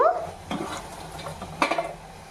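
Mutton curry ingredients fry in a pan with a soft sizzle, and a spoon knocks and scrapes against the metal a few times, with a louder clatter near the end.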